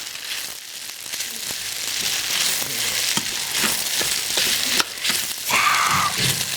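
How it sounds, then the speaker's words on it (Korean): Mushrooms and beef stir-frying in hot oil for a doenjang pasta, a steady close sizzle with occasional scraping stirs throughout. "지금 볶아놓은 버섯들과 쇠고기 넣고요. 다시 한번 볶아주세요."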